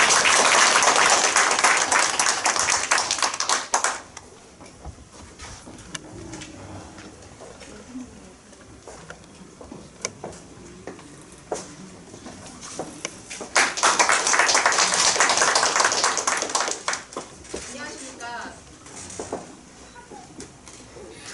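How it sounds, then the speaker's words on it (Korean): An audience at a Democratic Party member interview event claps in two bursts of dense applause, one at the start and a louder one in the middle, with quieter murmuring and a voice in between. "뜨거운 박수 부탁드립니다."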